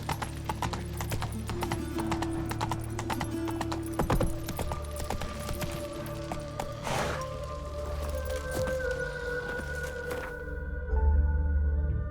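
The horse Roach galloping in The Witcher 3, hooves clip-clopping in a fast steady rhythm close up over ambient game sound, with a brief louder accent midway and a tonal hum toward the end.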